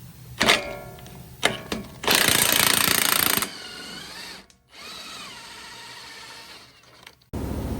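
A power tool fitted with a 24 mm socket buzzes in loud bursts while taking a track bar bolt off the rear axle of a 2025 Ford Bronco, with a few metallic clanks and a lower whine in between.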